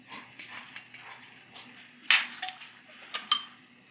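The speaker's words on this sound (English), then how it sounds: "We're going to give it a stir everywhere." A spoon stirs curried lamb in a metal pot, with scattered clinks and scrapes against the sides, close and soft, one sharper knock standing out midway.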